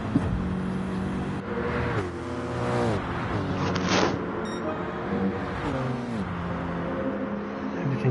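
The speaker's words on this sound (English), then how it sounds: "Pagani taking a very interesting line through Parabolica." Pagani GT1 race car engine in a racing video game at Monza's Parabolica, revving and shifting continuously with rising and falling harmonic sweeps, loud and close throughout, no talk.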